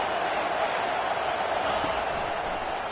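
Steady roar of a stadium crowd in a football video game on a 3rd-down defensive stand, a dense continuous wash of many voices holding at a loud, even level throughout.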